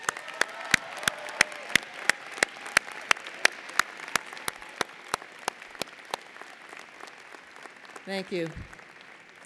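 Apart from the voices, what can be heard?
audience applauding award recipients at commencement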